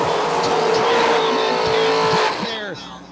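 Race cars scream at full throttle across the finish line at a drag racing event, loud and close, with the engine note dropping as they pass and lift off, under a commentator talking.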